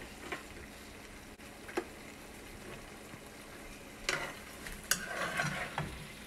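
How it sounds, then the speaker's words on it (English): Vegetables sauteing in a pan with cream of mushroom sauce, Philly cheese and buttermilk, a low steady bubbling sizzle broken by a few sharp utensil clinks and stirring sounds, quiet and close. "We're gonna let this saute and let this cook down"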